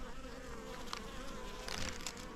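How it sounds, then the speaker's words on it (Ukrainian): Honeybees hum steadily at close range on a hive while new queens are introduced, a dense continuous buzz with brief louder swells as individual bees pass near. "Бачите, бджолки потрохи на них до них починають лізти."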